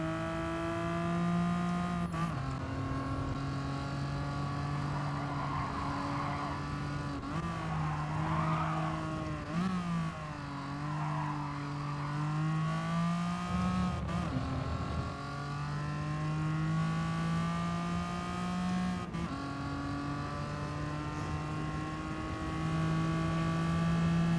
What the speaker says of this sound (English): This one is pretty much front heavy, and the rear just wants to slide around.